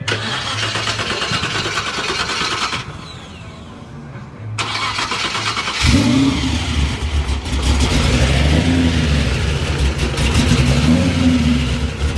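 Classic pickup truck engine cranking and firing up at a truck show, catching after a brief pause and settling into a loud, rumbling idle broken by repeated throttle revs.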